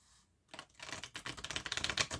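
A shuffled deck of fairy tarot cards being cut and handled gives quiet, rapid papery clicks and riffling taps, close and soft, with no talking.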